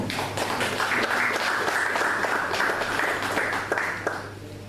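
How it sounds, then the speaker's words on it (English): An audience applauds the Dube family at a marathon launch event, a steady wash of clapping from a crowd that holds for several seconds before tapering off at the end, with a low hum underneath. "I think we really do want to applaud them as well, especially Zanda"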